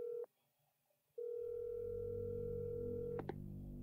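A telephone in Resident Evil 7 sounds a brief electronic tone, falls silent for a moment, then sounds a long steady tone over a low hum, ending in two quick clicks.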